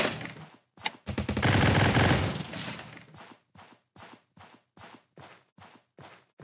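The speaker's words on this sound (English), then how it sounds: "I got a minigun!" A minigun blasting in a zombie survival video game, one long roaring burst of rapid fire followed by a string of short, evenly spaced bursts, loud and close.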